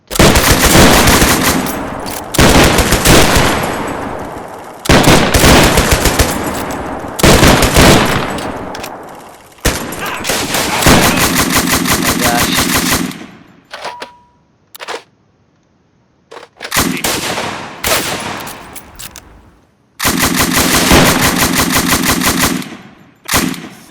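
Sustained bursts of machine gun fire from a squad of soldiers in the strategy game MOWAS 2, loud rapid volleys stopping and starting with brief quiet gaps and single shots between them.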